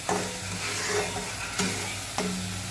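Masala paste fries in oil for a crab curry with a soft, steady sizzle close by. Three distinct spatula scrapes or knocks break through the sizzle. No one speaks.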